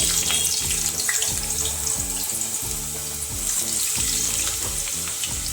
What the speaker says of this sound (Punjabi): ਚੰਗੀ ਤਰ੍ਹਾਂ ਤੇਲ ਗਰਮ ਹੋ ਗਿਆ ਹੁਣ ਆਪਾਂ ਇਹਦੇ ਵਿੱਚ ਆਲੂ ਪਾ ਦੇਵਾਂਗੇ